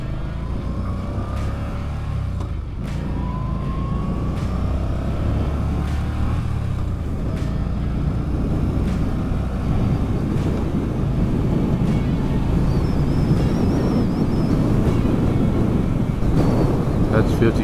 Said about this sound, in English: Bike's a 950cc, so it has no problem on the highway.